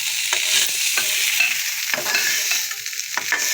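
Paneer sautéed in a pan on the stove, a soft continuous sizzle broken by several sharp scraping stirs of a spatula, close and clear with no talking.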